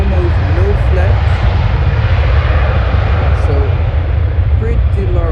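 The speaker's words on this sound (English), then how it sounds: "But I think there goes the A320." An Airbus A320 passes at Schiphol airport with a loud, steady roaring engine drone, heard close and continuous, while people talk over it.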